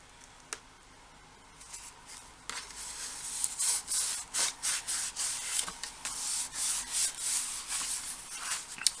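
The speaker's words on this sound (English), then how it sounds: "fold that down, burnish that with your bone folder." A bone folder burnishes folded paper for a mini album, giving repeated close, crisp rubbing strokes in a steady rhythm after a quiet start.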